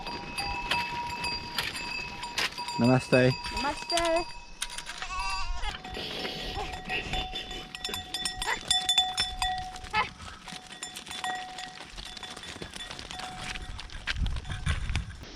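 A herd of goats passing along a mountain trail near Pokhara in Nepal, with repeated bleats and hoof clatter close by over outdoor ambience, and a person briefly greeting someone.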